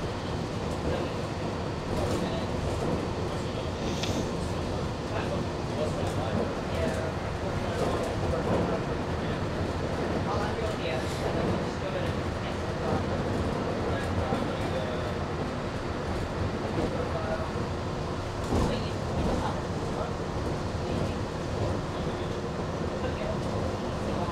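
Steady rumble of a Disney World monorail in motion, heard from inside the car, with continuous rolling drone and occasional faint clicks; people talk quietly beneath the noise.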